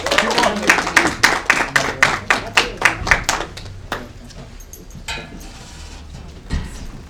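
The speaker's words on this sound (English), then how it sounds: "Big hand. Round of applause." A small open mic poetry audience gives a round of applause for a performer taking the stage, with brisk, loud, fairly rhythmic claps that thin out after a few seconds into a handful of scattered claps.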